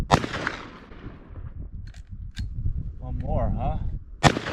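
Shots from a Desert Eagle .50 AE pistol firing handloaded rounds at steel targets outdoors, with one loud crack at the start and another near the end, separated by a man's brief speech and a metallic ring in between.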